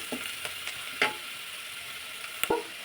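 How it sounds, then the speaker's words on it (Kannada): A single onion frying in a pan for a ragi soup, a soft continuous sizzle broken by a few sharp taps and scrapes of a spatula against the pan, close by and without talking. "ಇದು ಒಂದೇ ಈರುಳ್ಳಿ ಸಾಕಾಗುತ್ತೆ, ಜಾಸ್ತಿ ಬೇಕಿಲ್ಲ. ಸ್ವಲ್ಪ ಇದು ಫ್ರೈ ಆಗಲಿ."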